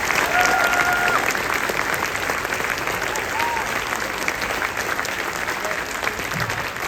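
A concert audience at a high school spring concert claps for the band musicians, dense sustained applause filling the hall throughout, with a few faint cheers or whistles mixed into the crowd noise.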